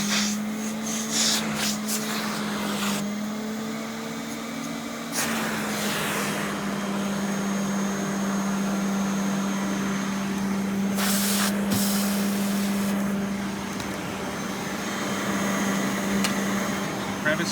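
A Rainbow D4c SE canister vacuum cleaner hums steadily at moderate volume after being switched on, its whine holding through the run with a few brief louder rushes of air.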